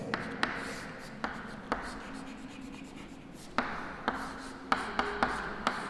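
Marker or chalk strokes on a board while a circuit diagram is drawn, giving soft scratchy lines and light taps spread unevenly over several seconds, close and fairly quiet.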